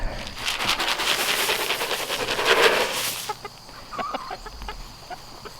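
A flock of three-year-old homestead chickens clucks and murmurs, dense chatter at first over a rushing noise, then sparser individual clucks nearby.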